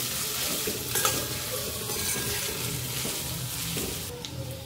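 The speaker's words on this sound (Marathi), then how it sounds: "सर्व भाजी मिक्स करून घ्यायची आहे व्यवस्थित" A spoon stirs potato bhaji, a fasting-style potato dish, in a hot pan. A continuous close sizzle of frying runs under scraping and occasional clinks of the spoon against the metal, with no talk.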